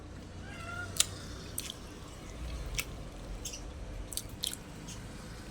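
A pet cat begging for food gives a few faint meows, short and spaced out, heard against quiet background noise with a few light clicks.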